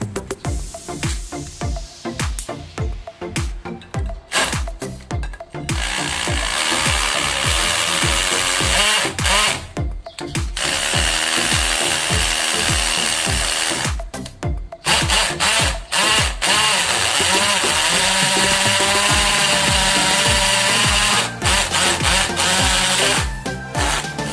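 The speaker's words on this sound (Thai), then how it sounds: "มาเจาะปูนกันบ้างนะครับ" Delton 75V cordless drill boring into concrete, a loud, rough grinding whine that runs in long bursts with brief pauses between, stopping and restarting several times close to the microphone.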